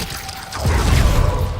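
A Glacius freezing spell is cast in Hogwarts Legacy: a quiet, mechanical rattle gives way to a sudden crackling, shattering burst that stays loud and dense until the end.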